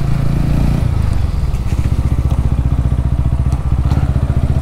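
TVS Ronin motorcycle pulling up under hard braking with both brakes, its engine loud and close as a low rumbling drone that drops into a fast, even thudding putter, with no one speaking.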